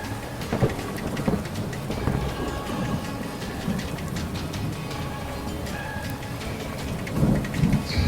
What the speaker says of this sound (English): She smiles, and the rain begins to fall.